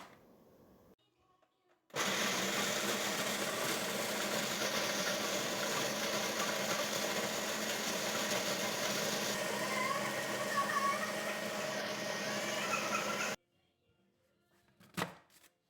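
An electric blender grinds petit beurre biscuits for a no-bake cake, a loud steady whirring roar lasting about eleven seconds, with quiet handling sounds before it starts and after it stops.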